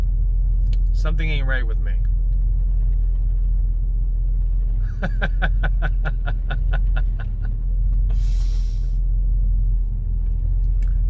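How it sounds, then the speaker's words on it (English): A conversion van fitted with a Flowmaster 40 Series muffler, its exhaust giving a deep, steady rumble throughout, loud and continuous under someone speaking and chuckling. "So I put a Flowmaster 40 Series muffler on my van, my conversion van, and it's loud."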